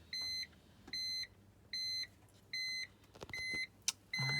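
A 2006 BMW 330i being switched back on chimes with a series of about six evenly spaced electronic beeps, clear and close inside the cabin, followed by a short extra tone at the end.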